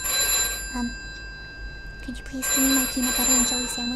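A telephone rings inside a video game, sounding as a string of short repeated electronic bell tones while a voice talks over it.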